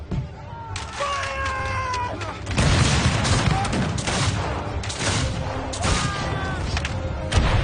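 A volley of gunfire in a western film scene, with loud booming shots and rattling bursts over several seconds, mixed with shouting voices and battle din.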